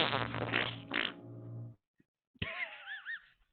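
A loud, drawn-out fart-like noise with a second burst, broken by a short silence, then a squeaky, wavering blast that may be a voice imitating a fart.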